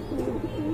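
A Lahori pigeon gives soft, low cooing close by in two or three quick rolling notes, alone with no talk.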